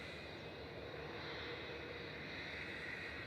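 A British Airways Airbus A319 jet airliner departs Manchester Airport for London Heathrow, a steady, fairly faint engine roar holding level throughout with no voices.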